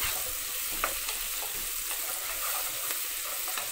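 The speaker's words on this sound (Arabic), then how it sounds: "هديها تشويحه" Diced tomato and vegetables stir-frying in a pan, a steady close sizzle with soft scraping stirs throughout and no talking.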